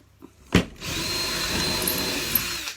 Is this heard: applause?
no